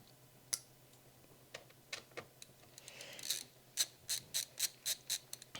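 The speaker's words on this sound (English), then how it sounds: "Really like this Linus screwdriver ever since I found out the easier way to use it for stuff like this." A Linus screwdriver turns small screws on an Asus ROG Strix G15 laptop, giving quiet scattered clicks that turn into a steady run of crisp ratcheting ticks.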